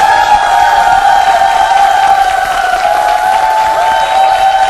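Applause and cheering from the audience at a talk on organic farming, a steady, loud crowd wash with a high sustained tone running through it, no one speaking.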